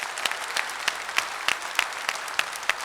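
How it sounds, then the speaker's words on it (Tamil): Audience clapping at a seminar, sparse and fairly soft, with a handful of distinct sharp claps standing out at irregular intervals over a faint background murmur of hands. "பலத்த கரகோஷம் கொடுத்துடலாம்."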